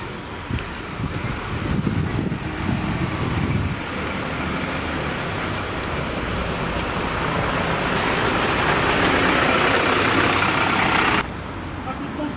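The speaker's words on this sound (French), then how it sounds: "je crois qu'il y a un bus, là." A bus idles nearby at a school construction site in Crécy-la-Chapelle, a steady low engine rumble and broadband roadway noise lasting throughout, with people talking over it.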